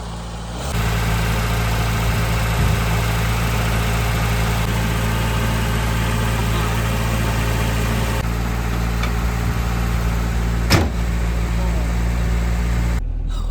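A campervan engine starts up in winter cold, catches within the first second and settles into a steady, rumbling idle close by, with a voice speaking faintly over it.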